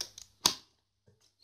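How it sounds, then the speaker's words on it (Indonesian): A few sharp clicks from a cabled computer keyboard plugged into a USB 3.0 hub, heard close and quiet: one distinct strong tap among softer scattered presses, with gaps of silence between. "Oke, sudah berfungsi keyboardnya."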